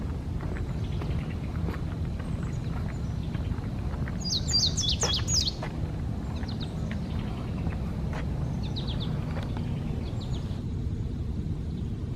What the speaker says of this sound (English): There's a little bird up here singing.